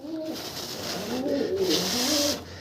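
Pigeons cooing close by in a series of low, rolling, throaty coos, with a faint airy hiss in the background and no talk.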